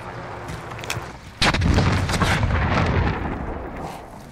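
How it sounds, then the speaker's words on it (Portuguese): A loud, close explosion with gunfire in Call of Duty Warzone, a sudden heavy boom that rumbles and decays over a few seconds after faint earlier shots. "Explodiu esse cara ali, ó."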